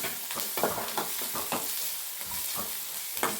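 Mudakathan keerai (balloon vine greens) sautéed in a hot pan give a constant sizzle. A spatula scrapes and tosses the leaves in quick, repeated strokes, close and clear, with no talking.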